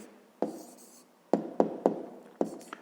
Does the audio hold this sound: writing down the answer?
yes